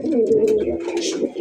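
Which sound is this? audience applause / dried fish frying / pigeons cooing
pigeons cooing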